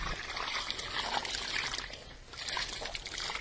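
Water splashed and poured over layers of coarse waste and cow-dung slurry in a ground compost pit, a steady close pattering trickle with uneven sloshing and no talk.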